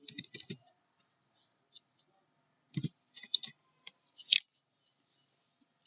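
Sharp, close mouse clicks come in scattered bursts and single taps with quiet gaps between them while working in a Microsoft Excel 2019 spreadsheet.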